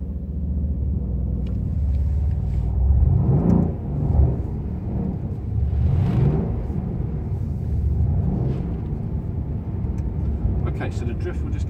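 A Mercedes-Benz C63 AMG engine rumbles through drifting hot laps, rising in several loud surges of revving power over a constant low road rumble, with a voice talking over it.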